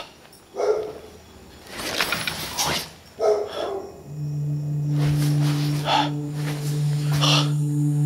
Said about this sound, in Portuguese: Escuta o cachorro.